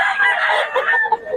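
Chickens and roosters at a livestock market in Bocaue cluck and crow loudly and close by, calls overlapping for the whole stretch with no voices over them.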